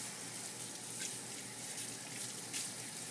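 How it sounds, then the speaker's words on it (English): A dish is rinsed under a running tap with a steady, faint hiss of flowing water and occasional soft splashes. "Rinse your dish."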